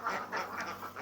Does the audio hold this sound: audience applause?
no